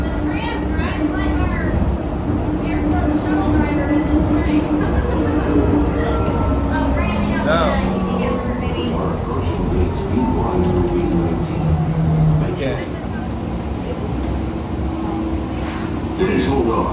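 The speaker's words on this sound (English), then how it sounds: "Please hold on. This train is departing." Airport shuttle train pulling away and rolling along, a steady rumble with rising and falling motor tones throughout, with people talking over it.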